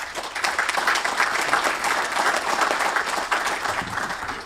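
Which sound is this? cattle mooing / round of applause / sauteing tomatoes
round of applause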